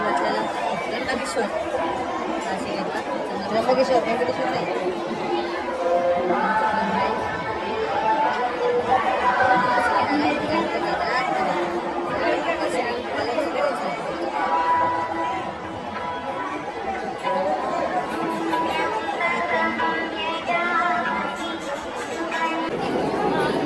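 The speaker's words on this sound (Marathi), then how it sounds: "मित्रांनो सर्व काही गर्दी आहे आणि सर्वच जण आम्ही लाईनमध्ये लागलेलं आहे" People chatter steadily in a crowded line waiting for darshan at a Balaji temple, a dense hubbub of many voices with nearby speech over it.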